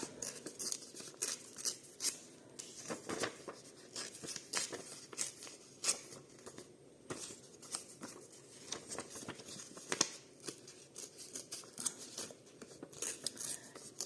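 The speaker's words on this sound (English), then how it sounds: "I cut it out first and then rip the edges like this" Magazine pages are torn by hand along their edges, giving quiet, irregular crackling rips and papery rustles that run throughout with no talk.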